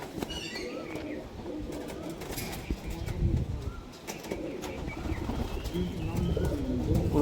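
Pigeons with fully painted tails, match-flying birds kept for sale, coo in a loft, with soft repeated throaty calls and occasional wing flutters under light background chatter.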